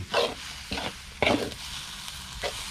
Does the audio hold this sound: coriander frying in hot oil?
yes